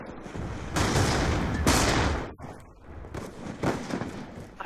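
First-person shooter gunfire in loud, sustained bursts, with two long stretches of rapid shots broken by a brief lull, then quieter scattered fire.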